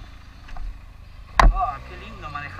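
A modified Benelli TNT 300 motorcycle engine hums steadily while riding, a low droning rumble under a brief sharp knock and a voice speaking near the microphone.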